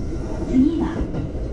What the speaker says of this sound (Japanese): この電車は和歌山市行きです。